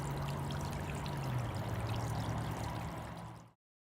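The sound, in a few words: floodwater leaking through a small leak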